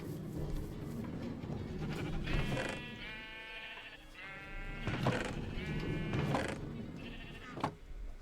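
Sheep on a sheep farm in a video game bleat repeatedly, several close, overlapping calls over a low background rumble, with no one talking.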